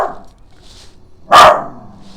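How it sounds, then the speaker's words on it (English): An excited pet dog, a female, lets out one sharp, loud bark close by, with a fainter yelp at the start and quiet room tone between. "Sorry, I had to let my dog out. She just kept barking."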